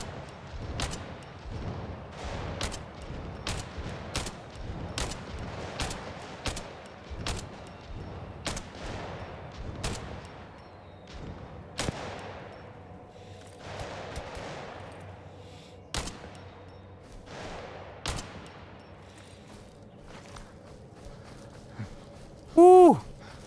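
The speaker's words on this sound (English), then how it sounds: "They're shooting at me." Repeated sharp gunshots from an enemy military patrol in the video game Fargone crack out in irregular bursts across the whole stretch, some loud and close, others fainter, with scattered footsteps between volleys.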